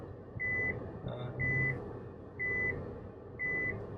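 Four evenly spaced electronic reversing beeps from a car being parked, steady and moderately close, with no talking.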